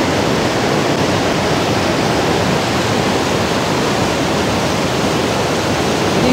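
Asupini Ella waterfall in misty hill country, a loud, steady broadband roar of falling water that holds constant throughout with no voices.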